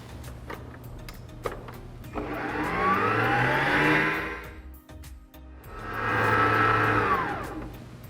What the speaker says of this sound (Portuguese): Eu vou voltar o chantilly para a batedeira e bater ele até passar do ponto